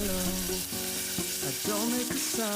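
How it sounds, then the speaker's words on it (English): Tomatoes and turmeric sizzle in hot ghee for a dal tadka, a steady loud frying crackle with stirring scrapes, close up and without talk. "Saute tomatoes well"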